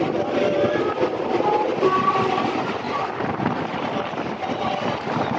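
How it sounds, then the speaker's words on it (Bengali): A Ranaghat–Bongaon non-AC local train runs past Satbaria with a steady, loud rumble and faint rail clatter throughout, with no voices. "ছত্রিশে ট্রেন সাতবাড়িয়া ক্রস করছে"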